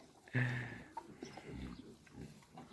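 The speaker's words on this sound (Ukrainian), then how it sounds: "поросята хороші, гарно ростуть" Vietnamese pot-bellied piglets grunt in a herd outdoors on grass, a loud close snort at the start followed by a run of softer, irregular grunts and snuffles.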